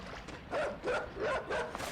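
A dog in a video game barks in four quick, evenly spaced yips, close and fairly clear against a light background.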